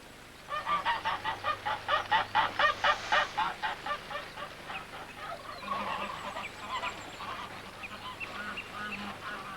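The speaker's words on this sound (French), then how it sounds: "des oies y barbotent" Geese on an octagonal pond at a house in Iran honk in a rapid, repeated series, a dozen or more loud calls in a row, then softer scattered honks and quiet background noise.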